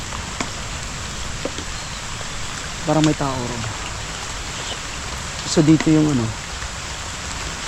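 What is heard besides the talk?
steady light rain outdoors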